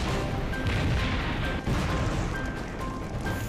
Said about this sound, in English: Smaller explosions repeat throughout the night.